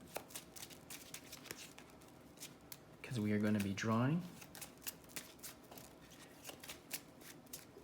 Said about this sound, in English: Just want to shuffle again, just to be sure.